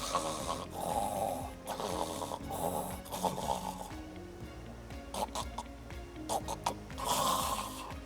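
A man imitates the snoring of obstructive sleep apnea, a few rough, rattling snores with snorts and breathy gaps, close and fairly quiet.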